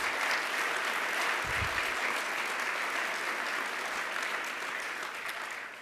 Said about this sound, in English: give another round of applause to all of our presenters and all of our speakers